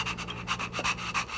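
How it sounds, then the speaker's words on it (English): Dog panting in the Honkai Star Rail video game, quick rhythmic breathy huffs repeating about every quarter second, close and clear with a faint sniff partway through and no talking. "You got a cute dog over there, Asta."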